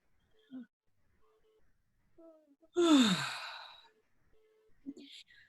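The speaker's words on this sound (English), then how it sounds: "So I would give one more yawn for you" A single long, audible yawn with a falling, breathy vocal tone, close to the mic, set between quiet moments and faint background sounds.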